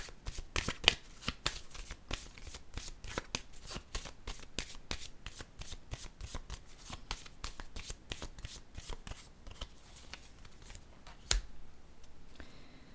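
Playing cards being shuffled and drawn, apparently for a tarot-style reading, making a steady run of crisp riffling clicks that thins out toward the end, close and clear with no talking.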